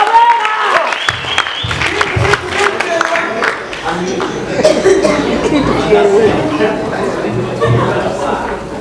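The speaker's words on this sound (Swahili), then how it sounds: "Makofi jamani" Audience applause at a gospel music artist audition show, broad and sustained for several seconds and mixed with crowd chatter and some talking.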